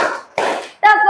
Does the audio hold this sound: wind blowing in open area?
no